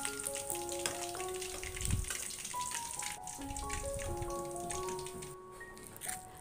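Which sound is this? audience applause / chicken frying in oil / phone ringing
chicken frying in oil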